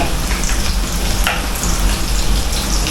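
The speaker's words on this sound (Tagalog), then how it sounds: "gisa natin mga kalits" Food sautés in a hot pan for Filipino home cooking, a loud, continuous close sizzle with a dense crackling texture and faint stirring scrapes, no talk.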